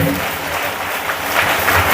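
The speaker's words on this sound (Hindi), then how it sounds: "वो लोग भी प्रभु को ताली बजा के धन्यवाद करेंगे।" A church congregation claps their hands in thanks, a steady, loud wash of crowd applause lasting the whole moment.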